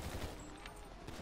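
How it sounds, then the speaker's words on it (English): Gunfire in the video game GTA V, a quiet, dense spray of rapid shots running continuously beneath a muffled background wash. "they're actually shooting that"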